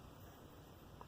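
A short electronic key beep from a Soundstream VRN DD7HB car stereo rings out clearly at the very end, following a second of quiet, faint background hiss.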